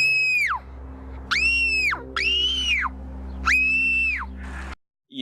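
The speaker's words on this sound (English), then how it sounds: "she screams for over a minute" A girl in a movie lets out four long, shrill, sustained screams, each rising sharply and tailing off, separated by brief pauses over a low background hum.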